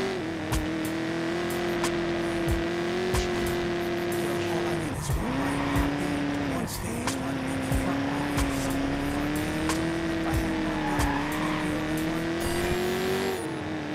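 A car in the video game Watch Dogs drives steadily with a loud, close engine whine holding a constant pitch, dipping briefly during gear changes or turns, with faint scrapes and clatter over it.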